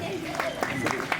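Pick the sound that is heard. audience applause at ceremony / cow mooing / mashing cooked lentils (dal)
audience applause at ceremony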